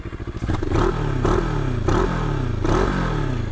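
A 2023 Moto Morini X-Cape adventure motorcycle fires up with a quick cranking stutter, then settles into a steady engine note with four distinct throttle blips, close and loud.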